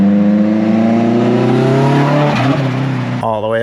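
A turbocharged Land Rover engine fitted with an open dump wastegate, a T3/T4 turbo, equal-length stainless manifold and 3-inch stainless downpipe, holding a loud, rough, steady rev nearby before dropping off and briefly blipping back up at the end.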